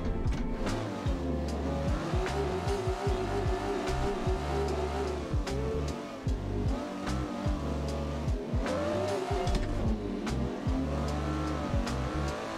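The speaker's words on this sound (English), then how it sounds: "this car doesn't really have enough power to pull third gear. It's hitting the rev limiter in a second" Drifting car in the Assetto Corsa racing game with the ADC drift pack, its engine bouncing off the rev limiter in a steady, loud buzzing drone, with repeated revving surges and short tire squeals, no talking.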